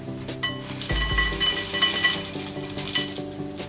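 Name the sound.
croutons being added to salad in a dish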